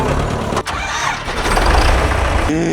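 An old, worn farm tractor engine cranks and catches, then runs with a loud, rough, continuous roar close by, with no pause in the noise.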